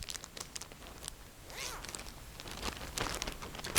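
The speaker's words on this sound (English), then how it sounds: "Put it in my plastic bag." A collected sample is slipped into a plastic bag, giving soft crinkling and rustling with a quick zip-like rasp partway through, close and fairly quiet with no talking.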